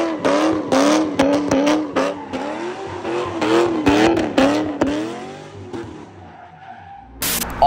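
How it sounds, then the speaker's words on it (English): A Corvette spins donuts, its engine revving up and down in repeated sweeping surges while the tires squeal loudly and continuously, close by, before the revs drop away near the end. "are you gonna do donuts? And I was like, you know what? Sure. I went out and ripped the Corvette."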